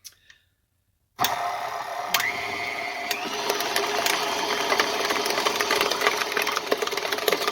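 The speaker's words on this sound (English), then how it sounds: "we'll just blend it a little more so it gets nice and creamy" A blender whirs into life after a brief silence and runs steadily on a cream cheese filling, a close, loud motor drone with ticking and rattling, briefly shifting pitch as it works.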